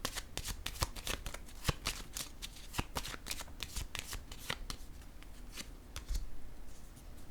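Oracle cards being shuffled and laid down: a quick run of crisp flicks and riffles at close range, with some sharper slaps where cards land, steady throughout and without talk.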